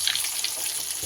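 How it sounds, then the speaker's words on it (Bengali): An egg fries lightly in a pan for Bengali egg posto, giving a steady soft sizzle with faint crackles in a brief stretch. "একটু হালকা করে উল্টে পাল্টে ভেজে নিলেই হবে।"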